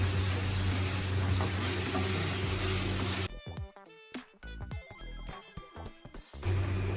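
Keema with peas and spices sizzles in a pan as a steady loud hiss, then gives way to a stretch of intermittent stirring scrapes and clatter before the sizzle returns.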